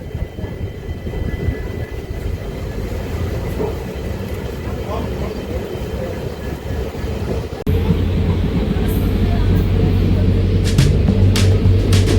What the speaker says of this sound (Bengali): তো বন্ধুরা ফাইনালি ট্রেন ছেড়ে দিয়েছে।